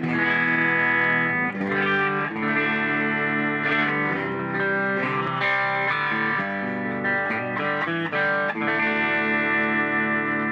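A Squier Paranormal Cabronita electric guitar with a clean, bright tone plays a steady run of chords and picked notes, ringing continuously with a slight chorus-like shimmer.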